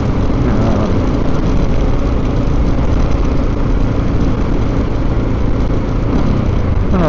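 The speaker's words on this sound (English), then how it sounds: "I'm hoping that you can actually hear the engine and what it's doing." A Honda XR650L motorcycle engine runs steadily with a loud, close low rumble and small throttle twists that barely shift its pitch, sounding continuous for the whole stretch with no voices.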